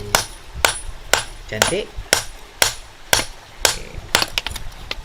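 Repeated metal hammer blows at a blacksmith's forge, about ten sharp strikes at a steady rhythm with a quick cluster near the end, close and loud, with a brief spoken word in between.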